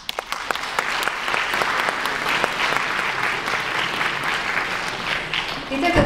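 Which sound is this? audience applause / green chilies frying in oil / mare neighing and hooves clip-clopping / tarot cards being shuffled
audience applause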